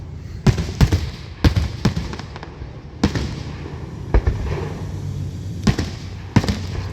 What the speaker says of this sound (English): Loudest, brightest, and prettiest fireworks ever.